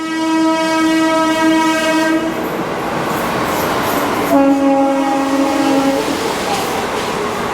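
The Puri–Sealdah Duronto Express stands at a station, where loud, sustained horn blasts ring out twice over a constant rumble of the train and platform.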